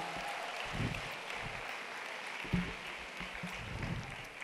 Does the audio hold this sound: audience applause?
yes